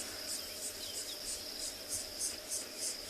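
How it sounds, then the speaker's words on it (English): Cicadas and crickets buzz and chirp in a steady outdoor chorus at sunrise, with regular pulsing bursts repeating about every third of a second over a faint constant drone. "Can hear the cicadas starting to make their racket."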